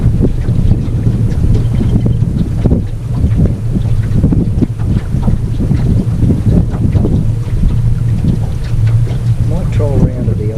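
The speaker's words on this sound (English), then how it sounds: "The wind's pushing us." Steady wind buffets a small fishing boat on a lake, a continuous low rumble of wind noise against the microphone, with people talking over it.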